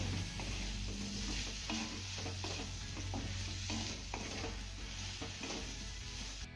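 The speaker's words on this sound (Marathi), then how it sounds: "ही भाजी आपल्याला एकदा तळापासून चांगली हलवून घ्यायची आहे" Bitter gourd sabzi being stirred in a pan on the stove, a spatula scraping and turning the vegetables over a steady low sizzle, close and continuous with no talk.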